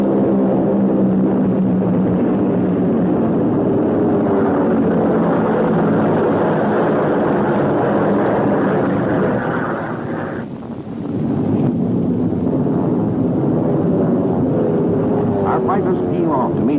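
German Focke-Wulf and Me-109 fighters in flight during a 1944 air battle: a loud continuous propeller-engine drone that dips briefly near the end, with a voice narrating over it.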